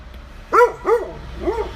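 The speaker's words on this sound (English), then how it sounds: "I'm sure you can hear my dog Mirage barking" A dog barks three times nearby, two quick sharp barks followed by a softer third after a short pause.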